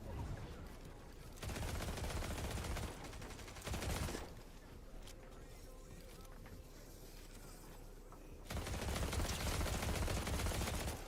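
A Lancehead pistol fires in a competitive video game finals match, its rapid shots coming in dense bursts separated by brief pauses, with voices talking over the gunfire.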